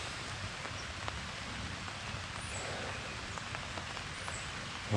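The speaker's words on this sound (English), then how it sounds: "And now it's starting to rain." Light rain beginning to fall at a campsite after a short hike, a steady soft patter of drops on surfaces and leaves, even and moderately quiet throughout with no talking.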